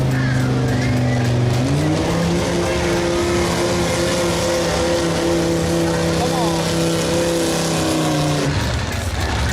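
Loud, sustained roar of a V10 Dodge-powered pulling tractor straining down the track at a harvest festival tractor pull, its engine note stepping up at a shift and holding steady before dropping off, with an announcer talking over it.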